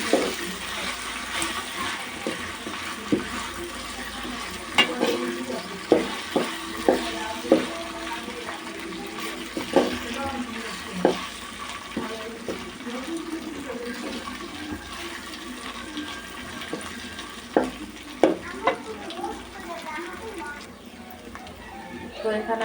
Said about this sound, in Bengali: তো আদা রসুনটাকে ভেজে নেব।